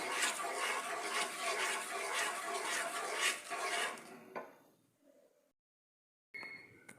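A spoon scrapes and rubs steadily through a thick potato toffee mixture with vanilla and cashews in a pan. The sound is close and continuous for about four seconds, then fades into near silence before a brief clatter.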